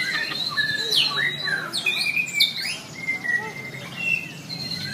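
A white-rumped shama (murai batu) sings at a songbird contest, pouring out rapid whistled phrases, trills and sharp chirps in a continuous, lively stream that stays loud and close throughout, with other birds faintly in the background.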